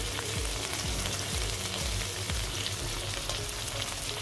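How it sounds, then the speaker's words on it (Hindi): Ground spices such as coriander and turmeric powder, with ginger-garlic, sizzle steadily in hot oil in a pan for dum aloo, a continuous close fry with a few stirring scrapes and no talk. "पर इसे भी अच्छे से हमें भून लेना है जब तक मसाले अच्छे से पक ना जाएं।"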